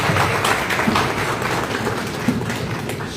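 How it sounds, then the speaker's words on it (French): An audience at a cultural programme and hall inauguration applauds, a moderate, slightly distant wash of clapping that holds steady throughout. "Vous avez applaudi"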